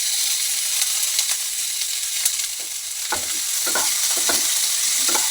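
Vegetables frying with onions, curry leaves and green chili in a pan, a steady loud sizzle punctuated by scraping stirs of a spatula, with no voices.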